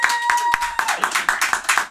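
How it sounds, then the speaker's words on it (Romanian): Clapping in a podcast studio: a few hands clapping in a steady rhythm of about four claps per second, close and loud, with a faint tonal ring fading under the first beats. "Aici am un public de 300 de milioane de oameni care aplaudat."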